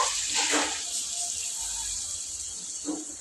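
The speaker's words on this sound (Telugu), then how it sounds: "దాంట్లోనే కొన్ని నీళ్ళు అనేసి పోసేస్తుంది" Water pours steadily into a pan of chicken leg pieces with a continuous hissing splash for a few seconds, close and fairly loud, with no one talking.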